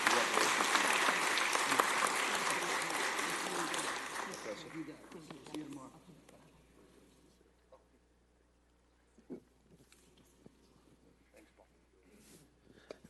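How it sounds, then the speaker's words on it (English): Applause at a Fresno city council meeting honoring a military veteran, loud and sustained for about five seconds before tapering off into room murmur, with a few scattered claps and knocks afterward. "Round of applause, absolutely."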